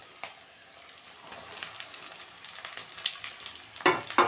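Peas and tomato hit a pan of browned onions for mudi ghonto, setting off a close, crackling sizzle with stirring scrapes that builds and turns louder toward the end.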